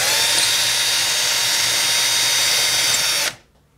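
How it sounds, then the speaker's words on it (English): A power drill bores a vent hole through the wall of a kiln, whining loudly and steadily at close range before cutting off abruptly near the end. "Put the drill in."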